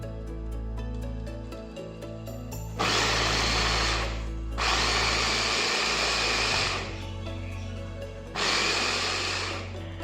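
Electric onion chopper whirring in three loud bursts of motorized buzzing as onions are chopped, separated by quieter pauses, close up, with music underneath and no talking.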